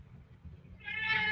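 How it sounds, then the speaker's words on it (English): A cat gives one rising, drawn-out meow close by, coming after a moment of faint low background noise. "And kitty cat's crying at me."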